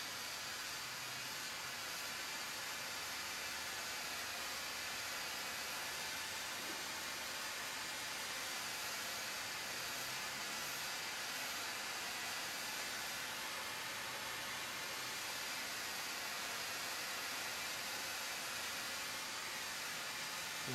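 A hot air blower runs steadily, a continuous breathy hiss held from a short distance while heating the steering bearing of a 1990 Honda XLR250R Baja motorcycle during triple tree assembly, with no talk.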